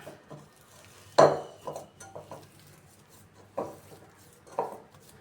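Rice flour dough for idiyappam mixed with greens and salt being stirred and kneaded by hand in a metal bowl, with a few soft clinks and scraping knocks spaced out against a quiet background.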